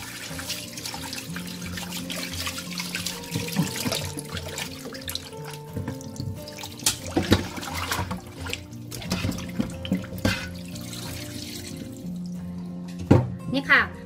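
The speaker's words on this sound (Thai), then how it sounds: "เราล้างนะจนกว่าน้ำจะใสค่ะ" Tilapia being rinsed by hand under running tap water in a kitchen sink, a steady splashing flow with sharper clatters and splashes toward the end; someone talks over it.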